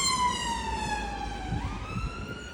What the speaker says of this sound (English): ambulance going by, guys.